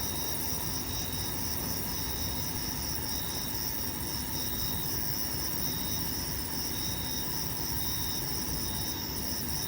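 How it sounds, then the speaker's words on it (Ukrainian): Steady, dense chorus of crickets and cicadas trilling continuously beside water while fishing, with a high buzzing drone and faint pulsing chirps, evenly loud throughout. "Сірчки, цикади,"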